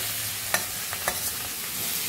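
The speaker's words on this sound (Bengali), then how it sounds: "তেলে দিয়ে আবার একটু নাড়ে নিতে হবে, একটু হালকা ভাজা ভাজা করতে হবে।" Food is stirred and fried in hot mustard oil in a wok: a constant bright sizzle close by, broken by a few sharp scraping clinks of the spatula against the pan.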